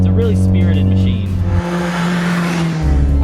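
Lightweight Japanese tuner car with rear-wheel drive and manual transmission, its engine revving loudly up close, dropping off and then pulling again, with a brief tire squeal near the start.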